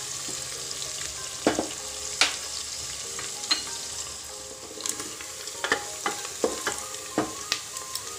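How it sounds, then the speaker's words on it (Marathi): Onion sautéing in oil in a pan, a soft, steady sizzle under sharp, irregular clicks and scrapes of a spoon stirring, fairly close and quiet, with no one talking. "आता छान"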